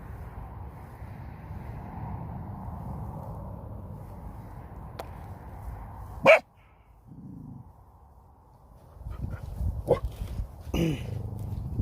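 A dog in an outdoor field during metal detecting gives a single sharp, loud bark, then a few fainter barks and snuffling follow over low wind noise.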